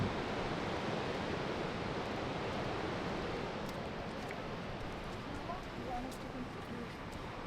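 Big ocean waves break continuously along a beach in Morocco, a loud, steady roar of surf and wash with no clear pauses, close and filling the scene throughout.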